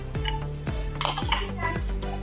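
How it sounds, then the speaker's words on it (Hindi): Garlic paste goes onto browned meat in a large pot for a 4 kg desi-style chicken biryani, with a metal spoon clanking and scraping against the pot in a quick run of close, bright knocks. "हम इसके अंदर लहसुन का पेस्ट डाल रही हूँ।"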